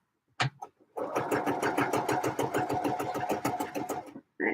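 Domestic sewing machine edge stitching a fabric lining: a short start-up burst, then about three seconds of fast, even needle clatter running at a steady pace before it stops.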